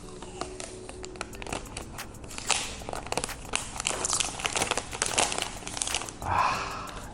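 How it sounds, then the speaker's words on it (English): Packaging being opened while unboxing a new TCL 10 Pro phone, with close, continuous crinkling, crackling and tearing of plastic and cardboard, irregular bursts growing louder toward the end. "don't you love the noise when you open up a new device?"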